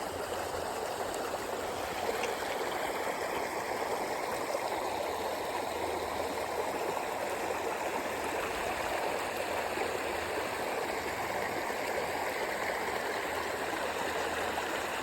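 Small waterfall spilling into a pond outdoors, a steady broadband rush of falling water, continuous and fairly near, with no talk over it.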